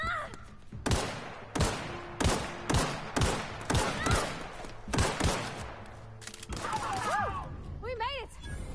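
Enemy gunfire in The Outer Worlds video game, a steady series of loud, evenly spaced heavy shots over several seconds, with voices talking between and over the blasts.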